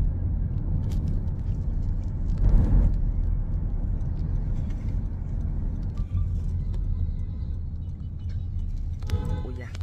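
A car engine runs steadily in a slow traffic jam, giving a continuous low rumble from inside the vehicle with faint voices in the background.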